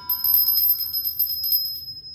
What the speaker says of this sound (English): So when you open and close the deities, you would ring the bell.